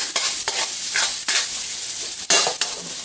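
Garlic and onion sizzle in the oil left over from frying tinapa. Loud, continuous frying hiss is broken by several sharp scrapes of a stirring utensil against the pan.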